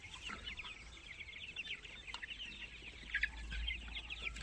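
Twenty-eight-day-old tiger chickens cluck and chirp in a busy, overlapping chatter, faint and somewhat distant over a low steady hum, with no voices.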